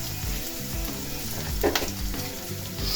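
Onions sautéing in a pan with curry leaves for a rice and lentil dish, a continuous close sizzle with scraping stirs and a brief louder crackle midway.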